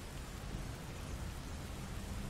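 Steady, dense rain fills the whole stretch in the video game Rain World Downpour, a constant broadband wash with low rumbling underneath, close and even, with no voices.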